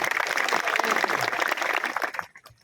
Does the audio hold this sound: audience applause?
yes